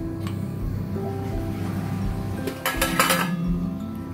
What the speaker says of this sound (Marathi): चमच्याने मिक्स करून घेते